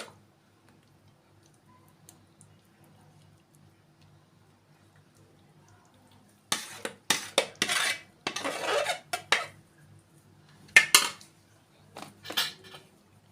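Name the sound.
spooning remaining béchamel sauce over macaroni in dish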